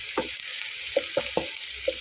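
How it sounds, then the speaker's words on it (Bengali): Onions sizzle in a pan with minced meat about to be added, a steady close fry hiss broken by four or five short scraping stirs of a spatula. "পেঁয়াজটা একটু হালকা নাড়াচাড়া করে আমি এর ভিতরে কিমাটা দিয়ে দেবো"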